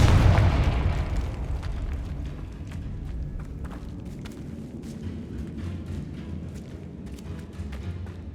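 A fiery Confringo spell blast in the video game Hogwarts Legacy erupts with a loud, deep boom at the start, then rumbles and crackles away into scattered debris and pops.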